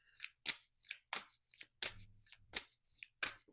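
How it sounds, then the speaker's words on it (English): Tarot cards being shuffled and drawn, a run of about nine crisp papery riffles and slaps at a steady rhythm, close and fairly quiet, with no talking. "I'm just going to take out a few cards here for you"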